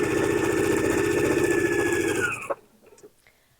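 Sewing machine chain piecing four-patch quilt blocks, running at a steady fast motorized hum that stops abruptly near the end, followed by a few faint clicks.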